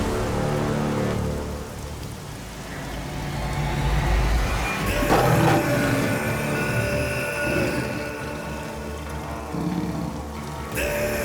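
Steady rain patters on surfaces throughout, a dense continuous hiss with occasional louder splashes and clatter, no talking heard, in a movie scene.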